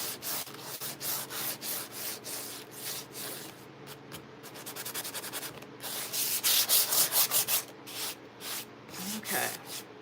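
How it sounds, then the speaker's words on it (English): A small electric sander roughing up a slick book cover, a dense buzzing scrub with rhythmic rubbing passes rising and falling, close and loud. "It's a little slick, so I'm just gonna rough it up a little bit. The little sander."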